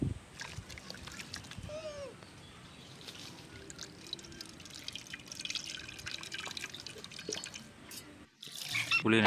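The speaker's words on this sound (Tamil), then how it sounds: "இதை தண்ணி ஊற்றி கரைச்சி எடுத்துக்கணும்." Tamarind is squeezed and dissolved by hand in water, with soft sloshing, squelching and dripping that continue steadily up close, ending in a brief louder splash.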